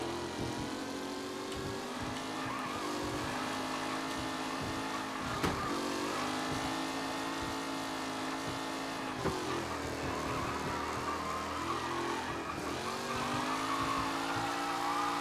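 Race car engines from the video game Mafia: Definitive Edition drone and rev continuously at close range, with shifting engine pitch and occasional tire squeal running through the whole stretch, no talk.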